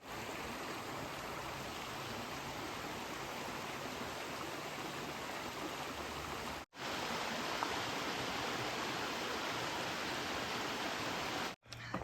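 A steady, even rush of flowing water from a creek beside a hiking trail on the Benton MacKaye Trail, continuous and fairly soft, with two brief dropouts and no voices.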